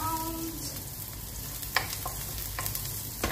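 Garlic fries in a little olive oil with a steady close hiss and sizzle, broken by a few soft clicks from stirring.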